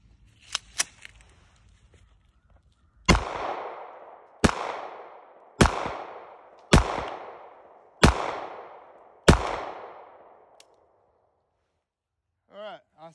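Six sharp pistol shots from a Ruger LCP .380 fired at 10 yards at an outdoor range, spaced about a second apart and each ringing out with a decaying echo, preceded by faint handling clicks and followed by a short voice.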